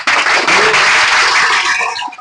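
Students in a maths coaching class clap for their teacher, a loud, dense burst of many hands close by that holds steady and then tapers off.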